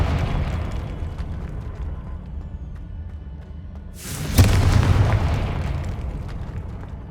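A Confringo fire spell from Hogwarts Legacy blasts open with a sudden loud explosive burst about two-thirds of the way in, then a rumbling roar that lingers over steady low game ambience.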